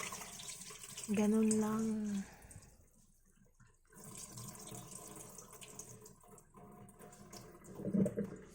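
Tap water runs and splashes in a sink while rice for biko is washed, a steady wash of water with a brief pause midway, and someone talks quietly over it.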